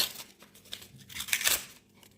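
A Nike paper surprise packet is torn open in a short burst of crisp ripping and crinkling, close and fairly quiet, lasting about two seconds.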